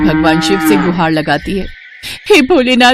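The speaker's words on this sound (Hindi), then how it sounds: "उस बाघ को देख वो जोर जोर से रंभाने लगती है" A frightened cow, startled by a tiger, moos loudly in several drawn-out, wavering calls, close and forceful, interleaved with a narrator's voice speaking Hindi.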